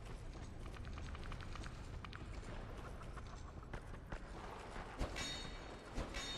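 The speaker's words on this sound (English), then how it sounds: "I hear footsteps." Footsteps of a character in the video game Dark Souls 2, a steady run of clip-clopping steps over a dense, noisy game soundscape, with a few sharper thuds near the end.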